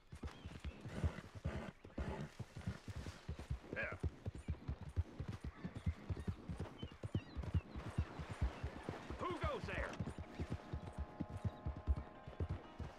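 Horse hooves clip-clopping steadily as a rider urges the mount along in Red Dead Redemption 2, rhythmic close thuds with occasional snorts and a faint whinny, under a voice talking.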